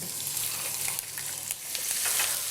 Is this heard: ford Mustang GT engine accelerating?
no